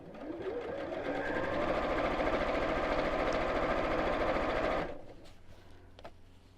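Steady, close machine stitching on a fabric bowl, the motor's rapid even hum running for about five seconds before cutting off into quiet room noise with a few faint handling sounds.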